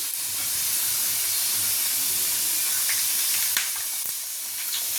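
Urad dal vadas frying in hot oil over a high flame, a dense continuous hiss and sizzle with a few sharp pops near the end.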